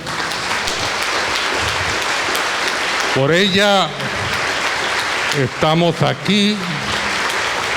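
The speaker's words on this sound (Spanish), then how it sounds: "quiero que por favor usted aplauda la gloria de Dios" A congregation at a Sunday church service claps continuously, a broad steady wash of applause, while a voice speaks over it partway through.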